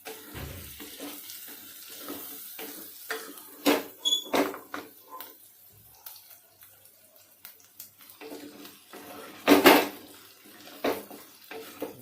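Cooked minced pork and potatoes are stirred in a pan, giving intermittent scraping and clattering of a utensil against metal over a low sizzle, moderately close, with a louder burst of scraping near the end.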